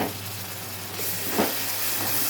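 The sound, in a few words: washed green peas added to fried onions, sizzling in pan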